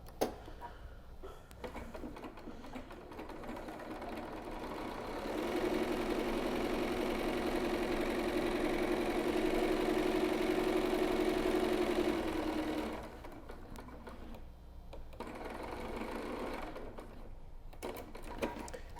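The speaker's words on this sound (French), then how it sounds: "on va aller faire notre surpiqûre pour faire une belle finition au bord" A sewing machine topstitches along the edge of a pleated fabric mask, a steady close whirring run of several seconds between quieter handling, with no talk.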